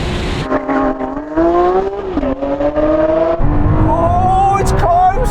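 Two Lamborghini Aventadors, an Ultimae and an SVJ, drag race with their V12 engines: loud, close, continuous revving with pitch climbing through gear changes, the high engine whine dominating throughout.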